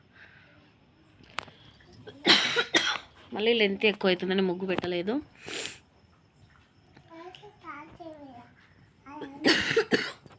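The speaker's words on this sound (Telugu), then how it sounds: "దగ్గు ఎక్కువ దగ్గు ఉందండి సారీ" Several harsh, close coughs come in bursts between stretches of a person talking.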